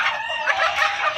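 Kadaknath chickens on a poultry farm cluck and call in a dense, continuous flock chorus, close and fairly loud for the whole short stretch, with no talk.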